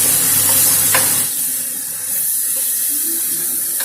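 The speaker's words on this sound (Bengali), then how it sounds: "এবার জল দিয়ে একটু মশলাটাকে ডাইলুট করে দিতে হবে।" Water is poured into sizzling masala in a pan while cooking paneer, peas and corn, making a loud steady splashing hiss that continues throughout.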